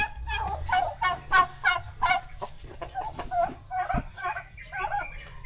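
Loud, repeated gobbling and squawking calls from several turkeys, close by, overlapping in irregular bursts with a faint voice underneath.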